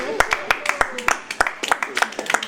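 Congregation at a church service clapping in scattered, uneven bursts of separate hand claps, moderately close, with voices talking over and between the claps.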